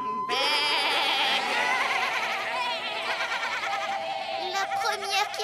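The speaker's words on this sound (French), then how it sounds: "La première qui arrête de bêler" Loud, wavering goat bleats carry on almost continuously, several animals overlapping close by, in a cartoon.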